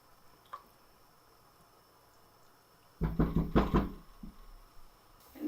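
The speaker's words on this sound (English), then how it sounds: "Then add your corn. Stir that in." Corn being stirred into a pot of SPAM chowder, a short close burst of wet squelching and scraping lasting about a second amid quiet kitchen background, followed by a faint knock.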